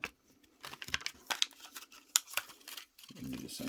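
An aluminium beer can is folded in by hand to make a windscreen: close, irregular bursts of crinkling and crackling metal, separated by short pauses.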